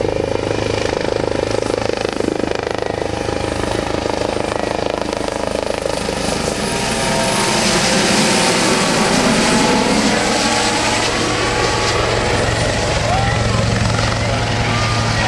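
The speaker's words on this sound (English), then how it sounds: "Here comes the HH-65, the gear are down. Powered by 2 gas turbine or jet engines" A US Coast Guard HH-65 helicopter with two French-made gas turbine engines roars loudly and steadily nearby, gear down, turbine whine and rotor thump filling the air with no break.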